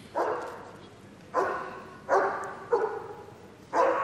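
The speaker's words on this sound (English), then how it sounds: "we're going to show you how we teach a young dog to speak" A young German shepherd, 18 months old, barks on command in an arena display at a dog show, giving five sharp, loud barks spaced by short pauses, close and alone.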